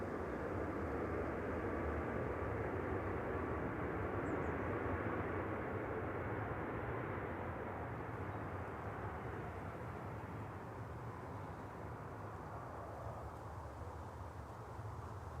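An Embraer E2 jet airliner roars faintly in the distance near Manchester Airport, a steady broad rumble that slowly fades.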